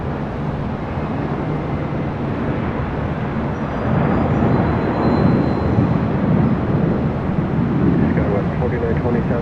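An airliner arriving from Rome touches down on runway 25 left at LAX, a continuous loud broadband roar of engines and rolling that swells slightly midway, with radio-style talk over it.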